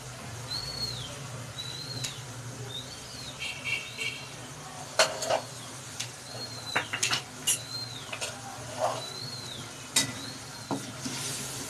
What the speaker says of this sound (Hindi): दही को अच्छी तरह भूनेंगे।